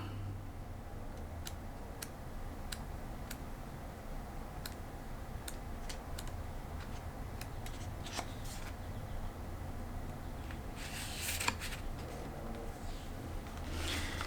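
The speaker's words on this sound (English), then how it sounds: "I purposely flip half of the deck when I'm shuffling" A tarot card deck being shuffled gives a run of sharp, separate card snaps and clicks close by, with a denser riffle burst near the end over a faint steady background hum.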